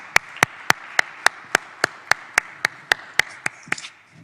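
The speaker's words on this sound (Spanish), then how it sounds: "Le damos un aplauso entonces" About fifteen sharp, evenly spaced claps ring out at a steady pace, close and distinct, as thanks are given to a presenting organisation at a human rights subcommittee session of a constitutional convention.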